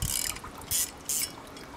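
A nut is twisted onto a threaded rod for a spinning bamboo primate feeder, giving short, close, ratcheting scrapes in a few separate bursts with quiet gaps between.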